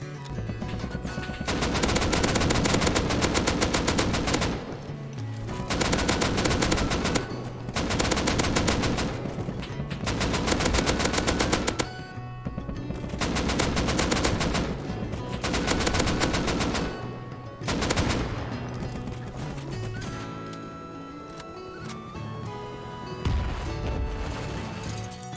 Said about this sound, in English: I used this AK to take down Heli when it came out.